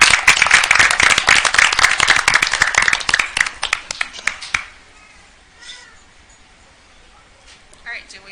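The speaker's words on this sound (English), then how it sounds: "Give them another round of applause." Audience applause at a school board of education meeting after a student performance, dense clapping for about four and a half seconds before it stops abruptly, followed by quiet room noise and faint movement.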